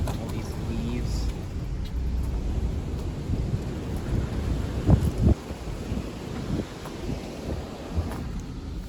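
Heavy rain and strong wind storm with gusts buffeting the microphone in a steady roar, with a few louder thumps midway and a voice talking over it.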